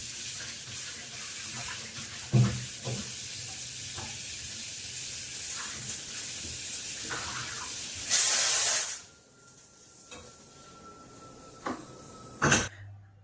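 A pressure cooker cooking rice whistles with a short, loud burst of hissing steam, standing out against a background of running water and clatter.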